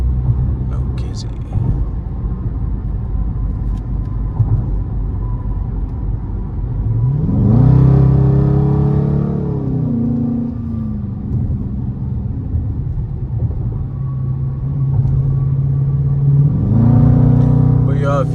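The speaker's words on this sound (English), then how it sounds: "I know y'all hear that mini whine, even though there's no supercharger in this bitch. It's that intake." A car's engine note rises and falls with faint whining harmonics from the intake during a night drive, with two swells of acceleration over a steady low road rumble and talk over it.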